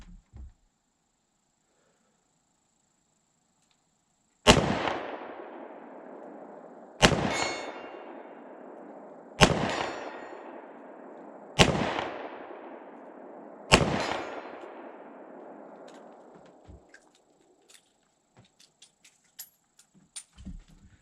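A Ruger LCR .357 Magnum double-action revolver fires five spaced shots at a steel plate 40 yards out, each a sharp loud crack with a ringing tail, the first after a stretch of near silence.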